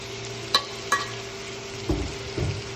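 Chicken curry with green chili and bell pepper sautéing in a pan, a low steady sizzle broken by a few sharp spatula clinks against the metal and two softer scraping stirs near the end.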